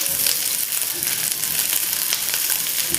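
Onions and capsicum frying in a pan, a loud continuous close sizzle with crackling bursts and light stirring.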